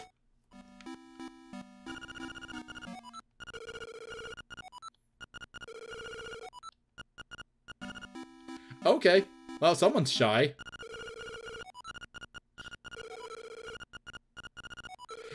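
Telephones ringing in a phone booth in Link's Awakening DX, a chiptune game soundtrack of repeated electronic ring bursts and melodic beeps, with a person talking briefly over the game sounds.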